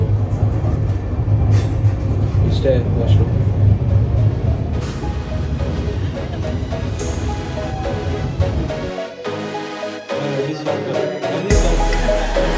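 Steady rumble and rattling of a moving train heard from inside the train's washroom, loud and continuous, with a few brief words spoken and a sudden shift near the end.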